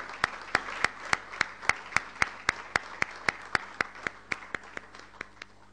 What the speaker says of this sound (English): Let's give a big round of applause to all the faculty, all the staff, all the students.